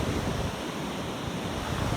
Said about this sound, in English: The waves are getting bigger, bringing in more water